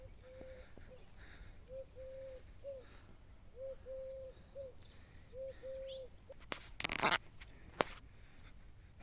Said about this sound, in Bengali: পাখিগুলো তো ধান পাচ্ছে না, ধান খায় আছে।